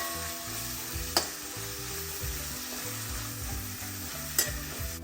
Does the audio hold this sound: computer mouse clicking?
no